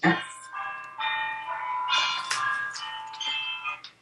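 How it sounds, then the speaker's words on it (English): A melodic chime rings out several tones in sequence, bright and clear, with the notes ringing briefly before fading. "That's our doorbell."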